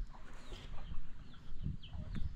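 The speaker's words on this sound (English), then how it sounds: "Chickens everywhere." Big chickens with chicks roam a Philippine beach area, clucking in a few soft, scattered calls over quiet outdoor background noise.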